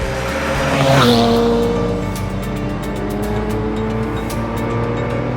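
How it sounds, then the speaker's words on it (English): Custom sports car floored hard, its loud engine snarling up to a peak about a second in, then holding a strong, steady roar as it pulls forward, close and dominant. "When you floor this car, it just fires forward with a wiggle."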